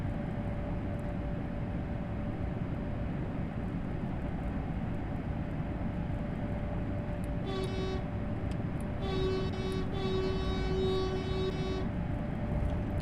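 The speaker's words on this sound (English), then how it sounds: "Honk, honk, honk." An ICE1 train horn in Train Sim World 4, two sustained tonal honks, the second longer, sounding over a steady loud rumble of the train running.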